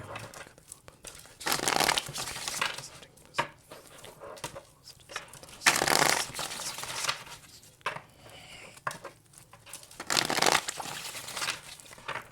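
Tarot cards shuffled by hand in several bursts of papery riffling and crinkling, close and moderately loud, separated by quieter pauses with no talk.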